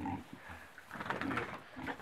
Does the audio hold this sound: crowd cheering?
no